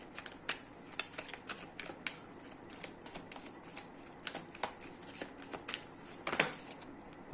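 Tarot cards being shuffled and drawn, giving a steady run of papery riffles and sharp card snaps up close, with a louder flick near the end.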